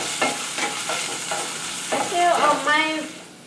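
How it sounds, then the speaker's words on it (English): Onion and ground pork stir-frying in a hot pan for a Thai sweet and sour catfish dish, with steady sizzling and scraping stirs and a voice briefly talking over it. "Okay, we're throwing the ground pork."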